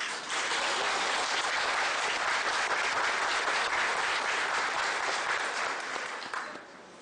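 Audience applause fills a lecture hall, a dense, steady wash of many hands clapping that holds loud for about six seconds before thinning and tapering off at the end.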